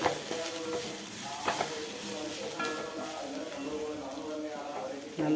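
Powdered spice mixture sautéed and stirred in a hot pan for an egg dish: soft sizzling with repeated scraping strokes of a spoon, while someone talks over it.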